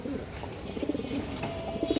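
Pigeons in a loft, among them a silver female, coo in low, throaty, overlapping rolls close by, continuing without pause.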